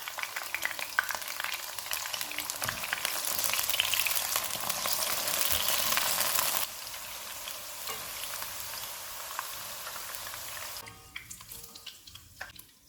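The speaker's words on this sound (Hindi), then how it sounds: "बाकी की भिंडी डालेंगे।" Okra (bhindi) frying in a pan for a bhindi keema dish, a continuous close sizzle that swells in the middle, then drops and grows patchier toward the end, with no talking.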